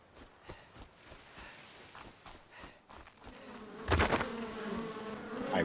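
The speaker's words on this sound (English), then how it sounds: "Sounds too much like bees." A bee-like insect buzzes in a dinosaur video game, a steady droning hum with faint repeated footstep-like thuds, rising to a louder burst near the end, with no talking.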